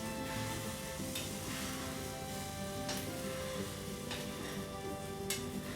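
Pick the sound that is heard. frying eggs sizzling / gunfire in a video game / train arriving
frying eggs sizzling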